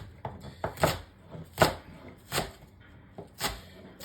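A knife roughly chops spring onion on a board for a pepper steak stew, with sharp, irregular cuts spaced about half a second to a second apart, close and clear.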